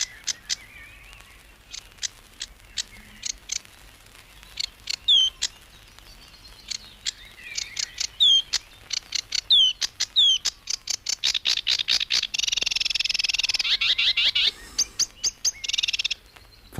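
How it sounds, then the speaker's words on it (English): A sedge warbler sings in riverside meadows, pouring out a long, varied run of rapid chirps, trills and buzzy phrases that grows busier and louder toward the end, with no talking over it. "Tremendous range of song. Yeah. The sedge warbler."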